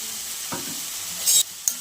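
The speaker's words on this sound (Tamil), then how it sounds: "கட் பண்ணி வச்சுருக்கிற வெங்காயம் எல்லாம் அப்படியே மொத்தமாக போட்டு வணக்கணும்" Onions and tomatoes sauté together in a pan, giving a steady close sizzle with brief stirring scrapes and a couple of sharper spatula clanks near the end.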